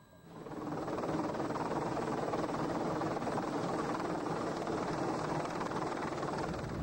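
Pave-Low military helicopter in flight, its rotor and turbine roar rising in over the first second and then holding steady and loud, with no talking.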